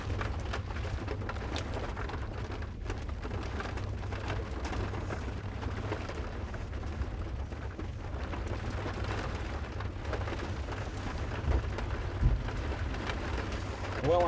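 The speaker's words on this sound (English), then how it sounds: "We've got rain." Steady rain falls throughout during a storm chase in Iowa, a dense, continuous hiss with a low rumble underneath. It carries on evenly with no breaks, and there is no clear talking.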